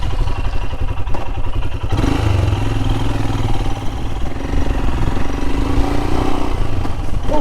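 Royal Enfield Himalayan motorcycle with an opened, cut air filter, riding steadily at close range; a loud, continuous engine drone with wind rumble and occasional clattering thumps, no talking.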